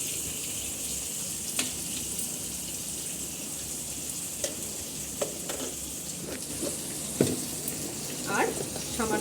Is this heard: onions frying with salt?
yes